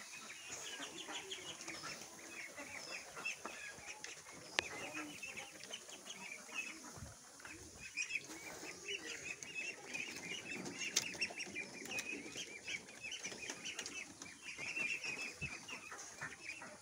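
Peking ducks on a farm make a dense, continuous chorus of clucking and chattering calls, with occasional wing flaps, fairly distant and steady throughout.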